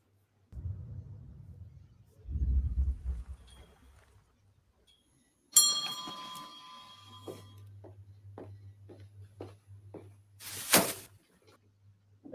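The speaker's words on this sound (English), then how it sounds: "obviously that bell rang when he opened the door" A shop door bell in the A Quiet Place Part II trailer gives a single bright ring as the door opens, following quiet low rumbles and leading into a soft low drone with faint clicks.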